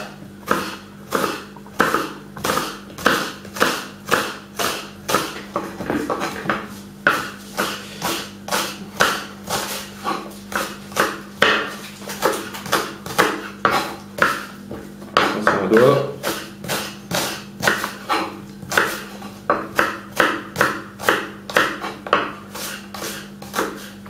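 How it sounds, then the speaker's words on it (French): A knife cutting through an onion on a cutting board while preparing a quiche lorraine, heard as a long, steady run of sharp, rhythmic chopping taps, close and fairly loud, with a low steady hum underneath. "Couper en 2 et dans ce sens-là."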